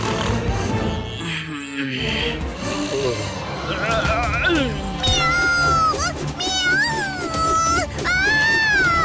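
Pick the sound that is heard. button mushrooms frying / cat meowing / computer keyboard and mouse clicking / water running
cat meowing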